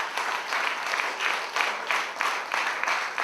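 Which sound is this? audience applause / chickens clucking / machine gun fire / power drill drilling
audience applause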